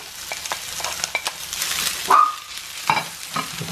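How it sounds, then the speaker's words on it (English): Peppers hit a hot pan with shallots, giving a soft, steady sizzle broken by several brief stirring scrapes and clinks, close up, with no talk. "Okay, just adding the peppers now."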